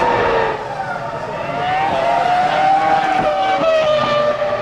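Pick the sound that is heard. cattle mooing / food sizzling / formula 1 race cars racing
formula 1 race cars racing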